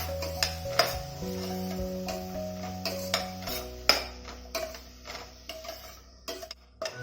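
Spoon clinking and scraping in a pot as an oats and vegetable soup with added salt is stirred, a run of irregular metallic taps and knocks over a steady low background hum, with no talking.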